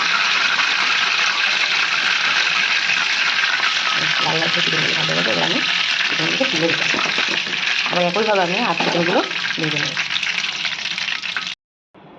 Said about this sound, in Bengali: ওই চিকেনের তেলে কিছুটা নামিয়ে রেখে আমি দুটো শুকনো লঙ্কা ফোড়ন দিয়ে দিলাম